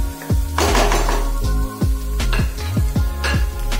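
Metal clanks and knocks from a pan of potato curry, a run of sharp ringing hits and scrapes close by, as of a lid being handled and set on the pan, with no talking.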